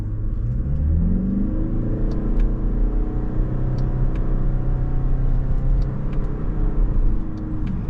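A 2025 Toyota Crown Signia Limited wagon accelerating in sport mode with manual shifting, a steady close cabin rumble of engine and road noise that climbs in pitch, with no talking.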